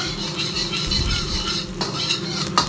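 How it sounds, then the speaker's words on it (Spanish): Finely chopped garlic goes into hot oil in a pan, giving a steady close sizzle with light utensil scraping and stirring throughout, no voices. "Ahora vamos a incorporar el ajo finamente picado."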